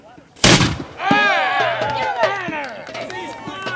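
A single loud, sharp cannon boom at a pirate reenactment show at a Florida Renaissance fair, quickly followed by a crowd cheering and shouting over the fading rumble.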